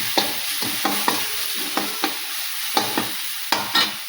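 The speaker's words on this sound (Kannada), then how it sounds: "ಚೆಂದಾಗಿ ಮಿಕ್ಸ್ ಮಾಡ್ಕೊತಾರೆ." A spoon stirs horse gram curry with turmeric in a frying pan, making repeated scraping strokes about every half second over a soft, continuous sizzle, close and clear with no voices.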